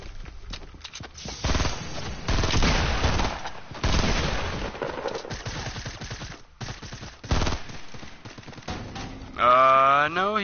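Shotgun blasts and other gunfire in a multiplayer shooter video game, loud repeated booms and crackling shots in dense bursts across the clip, ending in a rising tonal in-game sound.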